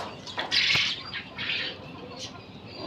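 Pigeons flap their wings in a cage in short flurries of rustling beats, close and fairly loud, with brief bird calls between the bursts.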